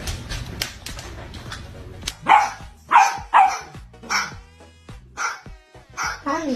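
Several dogs bark in short, loud, spaced yaps, with a few higher whimpering yips mixed in, close by and fairly steady across the stretch.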